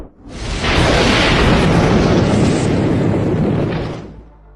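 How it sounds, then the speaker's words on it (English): Long, loud rumbling roar of thunder from a lightning strike during a violent storm with rain and wind, swelling quickly and sustaining for several seconds before fading. "Thunder, rain, and wind turned the sky into pure terror."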